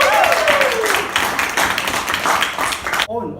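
A Toastmasters club audience applauds a speaker, a close, steady round of clapping from a small group, trailing off as a voice begins speaking at the end.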